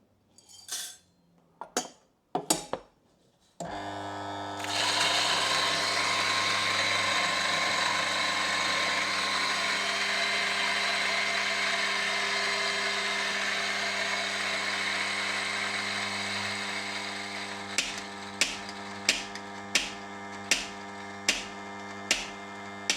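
Coffee grinder set finer, running as one loud steady whirring grind for about thirteen seconds, with sharp clicks and taps before it starts and a regular series of knocks after it stops.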